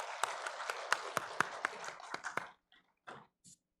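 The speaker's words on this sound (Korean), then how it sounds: "영광의 박수 올려드리겠습니다." Congregation applause during a Sunday church service after the choir sings, a brief round of clapping heard faintly that thins out and stops after a couple of seconds, leaving a few scattered sounds.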